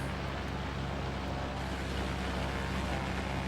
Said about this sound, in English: And the engine sounds awful. That is not my Mooney.